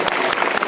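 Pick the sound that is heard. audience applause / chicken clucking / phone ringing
audience applause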